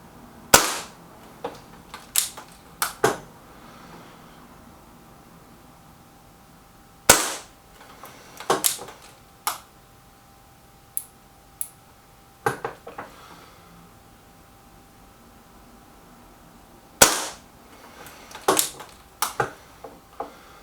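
Sharp, cracking shots from a BSA Defiant air rifle fired at a target, about a dozen distinct reports spaced irregularly with quiet gaps between, fairly close and loud, no talking.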